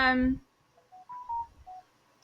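A mobile phone goes off in a room during a podcast recording, giving a few short electronic tones after a voice breaks off.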